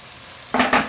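Tomatoes hit a hot pot of garden egg sauce and set off a sudden loud sizzle halfway through, which keeps frying in two close surges after a quiet start.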